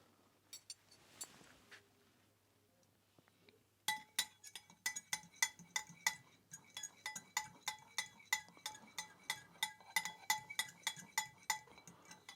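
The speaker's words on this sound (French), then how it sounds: "vous remettez la fourchette pour faire un petit fouet" A fork beats vinaigrette in a bowl with quick, regular metallic clinks, a fast steady rhythm of close, bright taps after a few quiet seconds, no voices.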